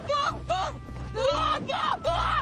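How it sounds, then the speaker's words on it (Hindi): A man's loud scream in an animated story, several close, drawn-out yelling bursts with rising and falling pitch over a low rumbling background. "इसके तुरंत बाद एक बहुत जोर से चीख सुनाई देती है और ये चीख किसी और की नहीं थी बल्कि ये चीख मैक्स की थी।"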